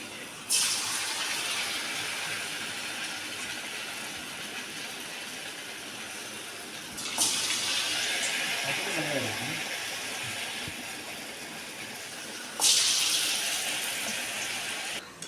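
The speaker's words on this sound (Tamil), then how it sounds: "நம்ம ஒவ்வொரு உருண்டையும் எடுத்து மாவுக்குள்ளே முக்கி பொரிச்சு எடுத்துக்கலாம். இப்போ முக்கி வச்ச எண்ணெயில் போட்டுக்கலாம்." Batter-dipped mung bean balls fry in hot oil for mundhiri kothu, a steady bubbling hiss that surges louder three times as pieces drop in, then settles back to a constant sizzle.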